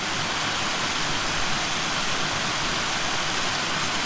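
A waterfall in the Dolly Sods Wilderness roars steadily and loudly, a constant rushing wash of water with no pauses or other sounds.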